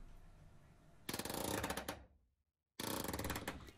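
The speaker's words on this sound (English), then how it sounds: "Palm nailer is just a little pneumatic tool that's got a magnet on one side and holds that nail securely" A pneumatic palm nailer drives nails while framing a shed roof, two loud bursts of rapid chattering impacts separated by a brief silence, close up with no talk.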